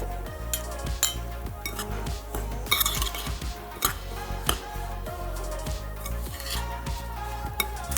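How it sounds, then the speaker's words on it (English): A spoon mixes a homemade scrub containing vanilla extract in a bowl, with steady stirring, scraping and light clinks of utensil against the bowl heard close by. "And again, mix that up really, really well."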